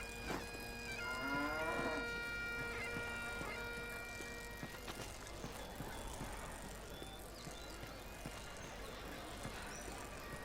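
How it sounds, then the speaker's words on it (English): Cattle in The Bard's Tale video game moo in one long low call near the start, followed by quieter rustling game ambience and scattered soft clicks. "And of course Bard can also tip over cows"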